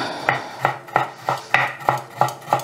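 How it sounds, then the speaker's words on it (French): A kitchen knife chops through a piece of fresh ginger root on a board, eight evenly spaced sharp knocks in a steady rhythm, close and clear with no talking. "Alors, moi, je le coupe, le gingembre."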